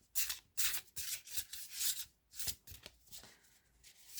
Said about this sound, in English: they do shuffle really nicely because I'm really not the best shuffler